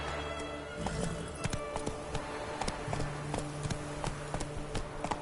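Hoofbeats from Roach, a horse ridden in The Witcher 3, clop in a steady quick rhythm, close and clear, over a low ambient game background.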